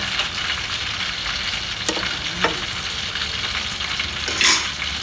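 Tilapia in a thick sauce simmers in a pan, giving a steady dense bubbling sizzle throughout, with a couple of faint clinks of a utensil against the pan, close and continuous with no talking.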